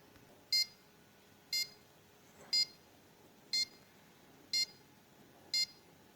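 Arduino-built security alarm giving its activation beep: six short, evenly spaced electronic beeps about one second apart, crisp and moderately loud against a quiet background hiss.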